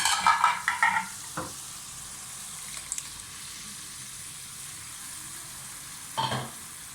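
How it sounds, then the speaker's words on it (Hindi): Boiled white chickpeas go into hot ghee in a pan, with a burst of loud close sizzling and clatter at the start that fades to a quiet simmer, then a short stir near the end. "घी ऊपर छोड़ने लग गया, तो इसमें हम बॉयल चने डाल देंगे।"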